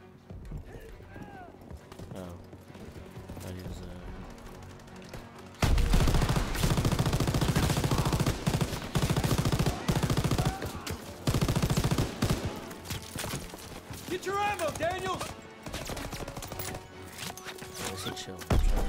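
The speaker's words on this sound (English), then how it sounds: "Open fire! Someone get on the MG!" Rifle and machine gun fire in a World War II battle, with bursts of dense, loud shooting breaking out after a quieter start, along with shouting voices and horse-like clopping sounds in the mix.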